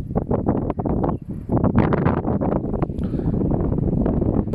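Strong wind buffets a microphone outdoors on a hot day in the Foz Côa area, loud continuous low rumbling gusts with sharp bursts, close and constant throughout.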